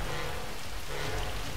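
Heavy rain pours in the video game Tomb Raider, a loud, unbroken broadband roar of falling water, close and constant, with no voices.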